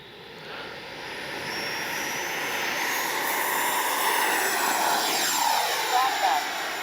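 An FMS Avanti 90 RC jet airplane flies past with a steady, loud turbine-like whine and broad rushing roar that swells as it passes close overhead, with a faint voice underneath.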